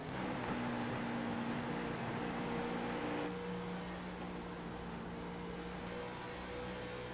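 Stock race cars lap Atlanta Motor Speedway, their engines blending into a continuous steady roar with sustained pitched drone, distant and even, with no talk heard.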